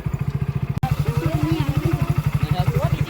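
A motorcycle loaded with water containers and a water bag chugs past close by, its engine thumping in a steady rapid pulse throughout, while someone talks over it.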